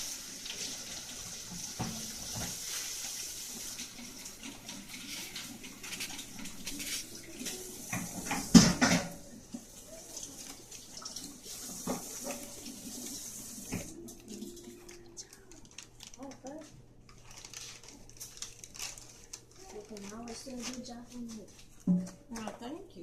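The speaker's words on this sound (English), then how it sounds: "Took some good soapy water and washed this off" Crab shell washed under running tap water with soapy water: a steady, moderate stream from the faucet with splashing and occasional clattering against a sink, changing as the shell is handled.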